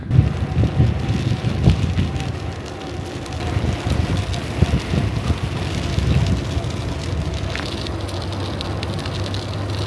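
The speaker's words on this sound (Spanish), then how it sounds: "Adivinad quién tiene el viento en contra un día más." Strong headwind roars across a microphone as a cyclist rides in Korea, a constant loud buffeting rush that fills the whole stretch.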